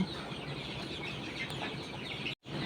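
Japanese quail on a small farm give faint, chirping calls amid a busy, hissy background of bird noise, with one brief dropout near the end.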